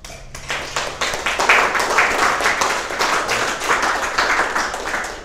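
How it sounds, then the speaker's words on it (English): A conference audience applauds a speaker at a security talk on stealing a botnet, giving dense, steady clapping from many hands for about five seconds with no voices. "please give a round of applause."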